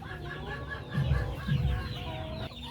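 Native chickens and chicks cluck and chirp while being fed wheat, a busy cluster of nearby clucks with a couple of louder bursts over steady peeping from the flock.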